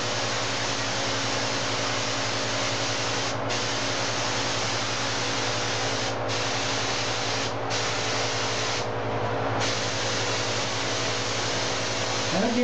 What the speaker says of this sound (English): I'm not fanning this out nearly as far as I did when I sprayed that first red-orange color